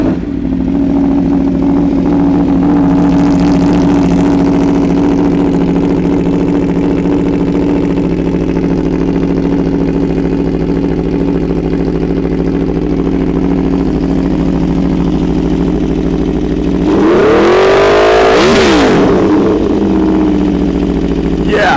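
A sport motorcycle engine runs loud and close in a steady, high-pitched drone, then surges in a sharp rev that climbs and falls near the end, with no talking.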